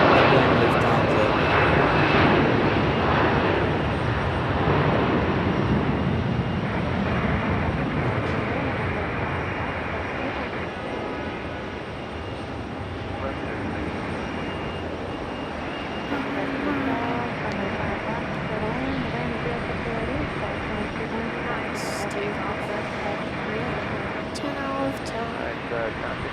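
Lufthansa and Delta airliners landing at Raleigh-Durham, a loud jet engine roar that swells early and slowly fades to a lower rumble, with voices talking over it.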